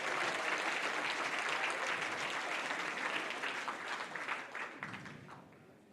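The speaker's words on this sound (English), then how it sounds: "Another round of applause for our panel" Conference audience applauding a panel at the HKMA-BIS High-Level Conference, a dense, sustained clapping that fills the room, then thins and fades out over the final seconds.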